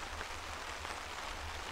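Steady rain falling outdoors, a continuous broadband hiss of drops, fairly faint and even throughout with no voices.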